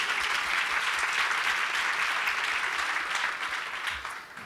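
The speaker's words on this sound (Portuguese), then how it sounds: "Palmas para ela." Steady applause from a seated audience greeting a guest on stage at a panel event, dense and continuous throughout before tapering slightly at the end.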